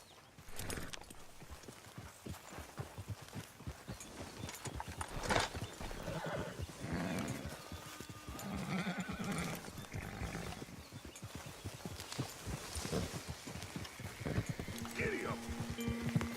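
Horses gallop in Red Dead Redemption 2, with a dense clatter of hoofbeats, snorts and whinnies under game music, while characters talk over the action at moderate level.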